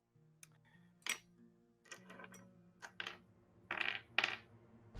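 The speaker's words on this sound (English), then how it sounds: "Gotta roll some dice" Dice clatter across a tabletop during a tabletop role-playing game, several sharp rattling bursts and tumbling clicks, close and alone without any talk.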